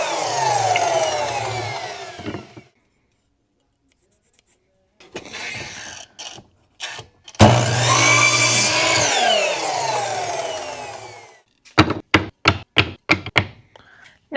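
Power saw cutting a soft cedar board into pieces, bursts of whining buzz separated by silences, ending in a quick run of sharp knocks and thunks close by.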